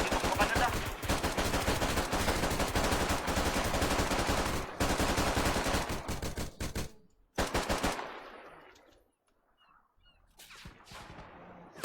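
Dense automatic gunfire from the video game Arma 3 rattles loud and continuous, then breaks into short bursts and fades into quieter background noise.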